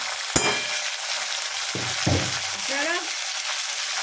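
Drained taro leaves (kochu shak) go into a hot frying pan, giving a sharp crackle at the drop and then a steady close sizzle with a couple of stirring scrapes, and no voices.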